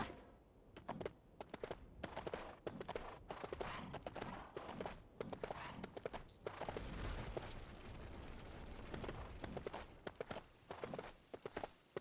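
Rapid horse hoof clip-clops in the video game Lego The Hobbit patter in an uneven rhythm, close and fairly quiet, with a brief steadier stretch midway.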